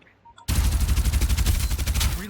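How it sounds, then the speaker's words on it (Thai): Rapid automatic gunfire bursts out in Farlight 84, a fast, loud run of shots lasting about two seconds after a brief quiet start. "ยิงแล้วยิงแล้วยิงแล้ว"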